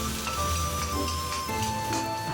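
Ginger and scallion slices hit hot lard in a wok and sizzle steadily, a dense, even crackle like rain that holds at a close, moderate level throughout.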